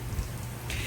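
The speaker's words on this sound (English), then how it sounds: "Rain, rain, rain. That's how they water them." Water sprinkles down like steady rain onto potted orchids in a nursery, a continuous close patter with a brief brighter hiss near the end.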